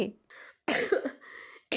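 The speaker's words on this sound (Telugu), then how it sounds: "ఈవిడ దగ్గుతుంటే" A woman coughs in three rough bursts, a short one, a longer harsh fit, then another starting at the end, close and fairly loud with brief silences between.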